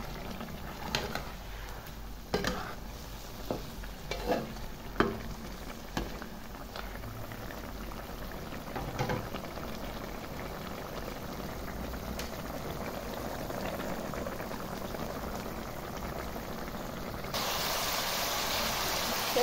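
Green chili chicken sauce simmering in a pan as its water reduces: a steady, close bubbling with occasional louder pops and plops near the start, continuous throughout, with no talking.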